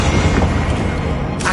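Bombarda spell blasts in the Hogwarts Legacy video game, a loud, dense booming rumble that runs the full length with a short extra burst near the end, no talk.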